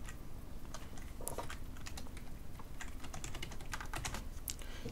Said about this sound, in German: Ich hoffe, ich tippe nicht zu laut.